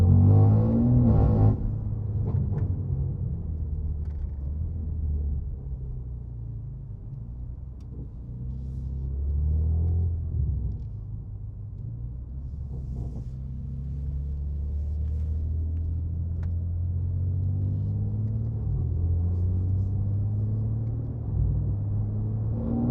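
A BMW M3 Competition engine and exhaust rumble low and steady while driving, rising and falling gently with throttle and an engine swell partway through, with no talk over it.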